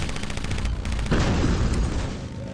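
A bomb blasts in the motorcycle combat game Road Redemption, a loud booming burst that erupts partway through amid rattling game noise and rumbles on before easing.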